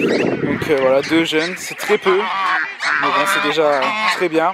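Hungry geese honk loudly and repeatedly in their pen, a dense chorus of nasal calls that continues through the whole stretch while someone talks over them nearby.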